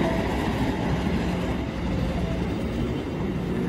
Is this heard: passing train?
yes